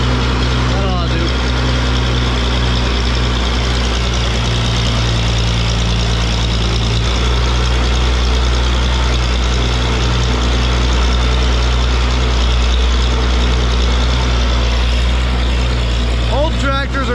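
An old tractor engine runs steadily in a field, a loud, constant low idle-like drone with a slight shift in pitch partway through, holding unbroken from start to finish.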